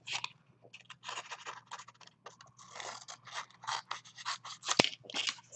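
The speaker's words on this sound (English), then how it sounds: "And then we're just going to cut off the excess." Scissors snipping away excess material from a decorated gift bag, a rapid string of close crisp cutting and scraping crunches with short pauses and a sharp click near the end.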